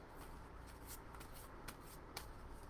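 A deck of oracle cards is shuffled by hand in quiet surroundings, giving soft papery riffles with several sharper flicks, faint and close.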